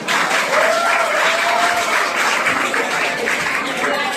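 A crowd at a school reunion ceremony applauds in a dense, steady, close clapping that holds for the whole span, with a faint voice under it.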